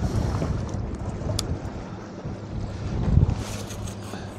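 Gusty wind buffets a small fishing boat on an alpine lake during a pike-fishing trip, a steady broadband rush with louder surges near the end and a faint low hum underneath.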